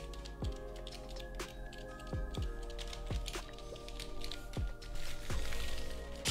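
Keys of a cheap waterproof keyboard still full of water being pressed one by one, giving soft squishy clicks at irregular intervals over a steady background hum.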